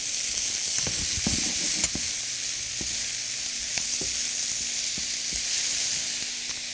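Cabbage, bacon and mushrooms sizzle steadily in a hot pan, a continuous close frying hiss with occasional small pops and faint stirring clicks.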